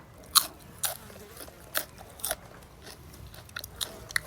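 Fresh vegetables and herbs are bitten and chewed up close, with a string of crisp crunches at irregular intervals, about eight bites over a few seconds and no talk.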